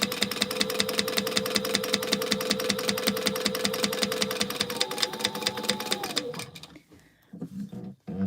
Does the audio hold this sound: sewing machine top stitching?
yes